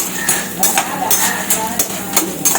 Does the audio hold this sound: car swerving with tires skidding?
no